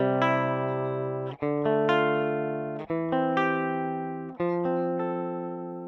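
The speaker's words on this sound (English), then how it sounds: "Now if I switch off all of those effects, including Tonex, the guitar sounds like this." Dry, unprocessed electric guitar with every effect switched off, plucked notes and chords struck about every second and a half, each decaying cleanly, close and alone.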